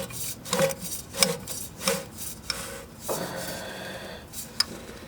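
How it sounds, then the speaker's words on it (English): An oil filter being spun onto a 1997 Chevrolet P30 diesel step van by hand gives soft, close rubbing and scraping strokes in an uneven rhythm, with no talking. "Try and spin it on here. Hopefully I can spin around."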